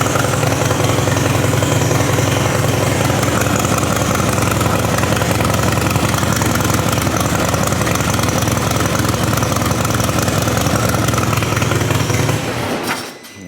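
A Harley-Davidson motorcycle engine, rebuilt after a Copart purchase, idling loud and steady close by with a dense, even rumble for about twelve seconds before shutting off and falling quiet.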